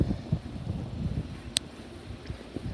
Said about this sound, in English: Whoa! Windy!